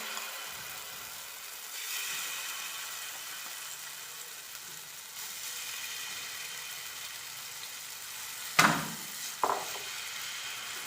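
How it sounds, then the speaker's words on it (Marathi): Bhagar and potato batter goes into hot oil, which keeps up a steady, soft sizzle throughout, broken near the end by two sharp, close clatters of a utensil, with no talk. "आपलं तेल छान असं गरम झालेलं आहे आणि त्यामध्ये हे बॅटर आहे ते मी टाकून घेत आहे"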